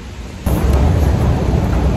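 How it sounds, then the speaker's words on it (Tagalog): Heavy rain sets in with a sudden jump to a loud, dense, steady roar that holds to the end, with a deep rumble underneath that could be thunder. "At umuulan."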